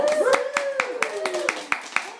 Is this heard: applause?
yes